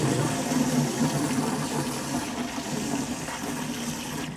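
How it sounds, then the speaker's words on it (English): A garden hose on its full setting sprays water into a container of vegetable seedling fertilizer mix, making a steady, loud, close rushing and churning that carries on without a break. "And then I just use my hose on"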